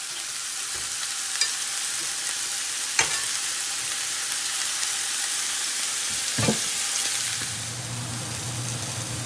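Taco chicken pieces sizzle in a hot pan after being flipped, a steady bright frying hiss with a few sharp clicks and scrapes from the utensil, close and loud.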